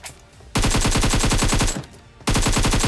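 Rapid automatic gunfire in BGMI, two loud sustained bursts of evenly spaced shots separated by a short pause, close and dominant.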